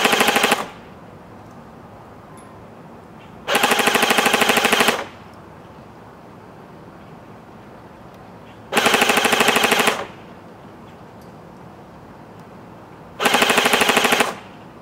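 Cyma CM028 airsoft RPK firing full-auto bursts, four loud rattling strings of shots spaced a few seconds apart with quiet between.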